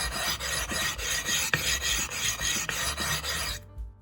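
Whetstone scrubbed back and forth over a flattening surface in quick, continuous gritty rasps, loud and close, stopping abruptly near the end.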